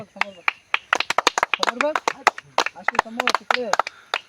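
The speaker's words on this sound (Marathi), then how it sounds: "टाळ्या रे" Teammates clap for a new player joining a cricket team, bouquet handed over at a season opening; sharp irregular claps, fairly close, mixed in with lively talk and laughter.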